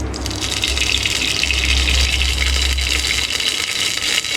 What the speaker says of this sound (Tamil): சூடாயிடுச்சு, எண்ணெய் ஊற்றிக்கலாம்.